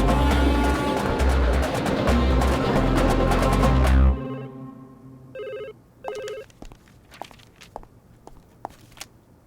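A loud, insistent phone ring trills for several seconds and then cuts off, followed by a few short electronic beeps and light clicks.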